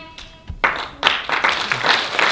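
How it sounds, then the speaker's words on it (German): A children's concert audience in a cinema claps for Julius, a new trainee performer, with a soft onset and then a louder burst of hands that continues steadily. "Ein Applaus für Julius"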